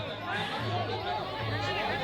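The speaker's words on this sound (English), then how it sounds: "the crowd is cheering" Crowd noise at a festival Muay Thai fight in Buriram, a steady loud hubbub of chatter and shouting voices filling the whole moment without clear peaks.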